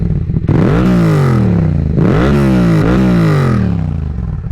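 A loud Yamaha MT-07 motorcycle with a 270-degree crank engine revs up twice in close succession, the exhaust note rising and falling, with no talking.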